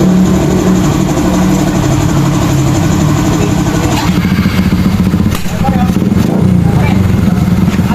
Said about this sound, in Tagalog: Laki ng motor.